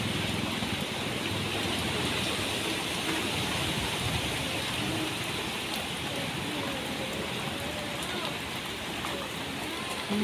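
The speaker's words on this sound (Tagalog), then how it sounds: "sobrang lakas ng hangin." Constant roaring rush of typhoon wind mixed with heavy rain in the Philippines, loud and unbroken throughout, with faint voices buried underneath.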